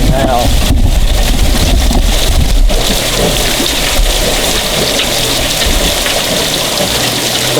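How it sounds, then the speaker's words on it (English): A revolving gold trommel drum tumbles muddy gravel under spraying water, making a loud, continuous rushing wash with churning, rattling undertones, while a voice talks over it. "this drum revolves, as the material comes down from the bigger scrubber"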